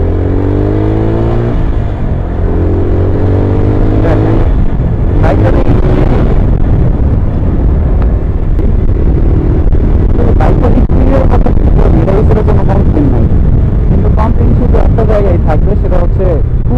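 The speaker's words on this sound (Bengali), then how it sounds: "থ্রি সিক্সটি বাইকটা আরেকটু টানটানি করি" Loncin GP165 motorcycle engine revs up and down repeatedly while riding, rising and falling pitch sweeps over steady wind rumble, close and loud, with someone talking over parts of it.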